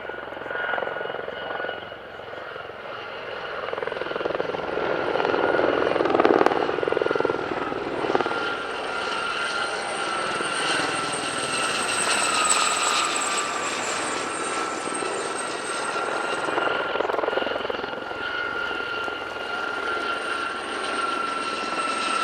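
A civilian helicopter display team at an airshow thrums and whines overhead for a long stretch, the rotor and engine noise swelling and fading as they pass at moderate distance.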